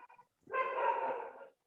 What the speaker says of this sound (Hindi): ये पहले इसे आवाज बंद करो जिसके यहाँ पे कुत्ते भौंक रहे हैं।